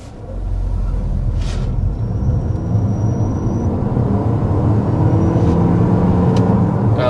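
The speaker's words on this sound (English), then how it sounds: "we're going to start with a hard acceleration" Hard acceleration from inside a 2026 Toyota RAV4 XSE plug-in hybrid: a steady, rising engine and road rumble with faint whirring, building for several seconds without speech.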